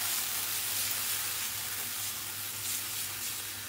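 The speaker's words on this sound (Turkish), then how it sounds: "İlk olarak kıymayı güzelce kavuruyorum." Steady, even sizzling of minced meat frying in olive oil in a hot pan, a soft continuous crackle with no voices.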